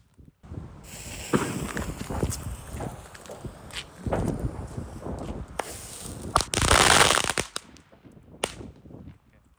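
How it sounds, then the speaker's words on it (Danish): A giant crackling-ball firework bursts into a long stream of rapid, close crackles and pops, building to a loud dense flurry before thinning to sparse snaps. "så prøver jeg en kæmpe crackling-kugle"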